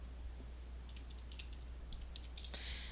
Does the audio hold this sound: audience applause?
no